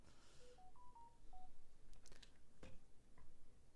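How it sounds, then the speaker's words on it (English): A phone plays a short run of rising electronic tones, then a few sharp clicks and taps follow in a quiet room, all soft and close with no talking. "Phone just keeps going off"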